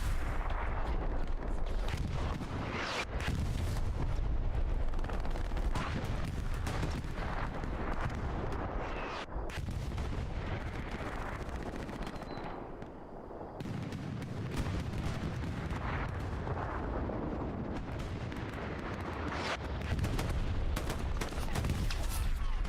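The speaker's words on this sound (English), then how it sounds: "Oh, that artillery. Devastating." Artillery fire in the video game Hell Let Loose: repeated heavy booms and rumbling blasts, some close and some distant, rolling through a dense battle soundscape with faint talk.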